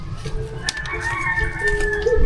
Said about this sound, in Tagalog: Naglilimlim po ang isang manok.